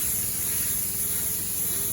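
A sprayer hisses steadily as it mists Green Acres foliar fertilizer onto vegetable plants, a loud, close, unbroken spray with no talking.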